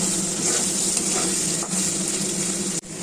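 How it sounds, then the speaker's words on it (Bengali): Potatoes frying in oil in a pan over cumin seeds, a steady loud sizzle with soft stirring scrapes running throughout, briefly dipping near the end. "আলু ভাজা প্রায় হয়ে আসলো"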